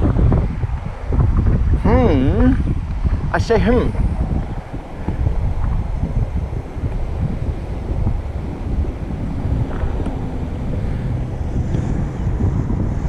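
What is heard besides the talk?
wind blowing into microphone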